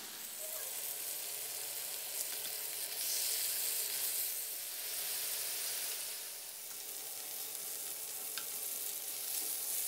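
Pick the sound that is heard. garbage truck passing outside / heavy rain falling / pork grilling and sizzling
pork grilling and sizzling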